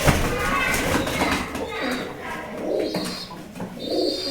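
Pigeons, white and grey, cooing in low soft bursts while they fight, with scattered fluttering and scuffling nearby and a voice talking over them.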